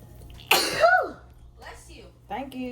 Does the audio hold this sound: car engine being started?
no